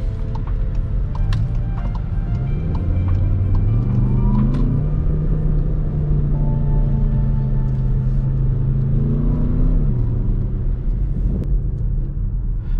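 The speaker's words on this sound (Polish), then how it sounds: "W tym trybie, który teraz mamy, Sport, słyszymy dźwięki takie blum, blum, blum, blum, jakby to tak było gdzieś między V6 a V8." Skoda Kodiaq RS with its 2.0 BiTDI 240 hp diesel, 4x4 and DSG, in Sport mode: a steady, close engine rumble climbs through revs in smooth pulls, holds a deep droning note, then eases back, with no talking.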